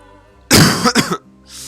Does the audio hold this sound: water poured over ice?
no